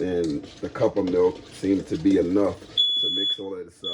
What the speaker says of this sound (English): That was the smoke alarm going off